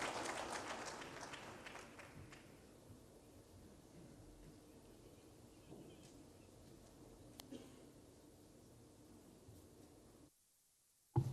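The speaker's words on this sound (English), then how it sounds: "Once more, can we clap hands for our Prime Minister?" Audience applause for a Prime Minister at the 45th CAF ordinary general assembly in 2023, a steady, moderate wash of clapping from a crowd that goes on for about ten seconds before cutting off abruptly.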